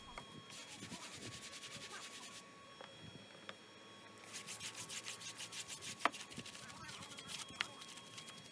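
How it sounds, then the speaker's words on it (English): A barrel brush scrubs inside the wheel barrels of a dirty Kia Ceed during a car clean. The scratchy bristle rubbing comes in bursts, close and moderately loud, with a few knocks. "we're just going to tackle it with the Easy Barrel brush and a few others"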